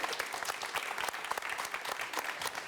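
A studio audience on the Turkish morning show Sabahın Sultanı applauds Mesut and his siblings, a dense, steady wash of clapping lasting the whole stretch with no talk over it.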